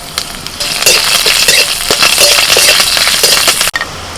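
Curry leaves go into hot oil with dried red chillies, a pinch of fenugreek and asafoetida. The oil gives a loud, close, spitting sizzle with crackling pops and a few light clinks of a stirring utensil.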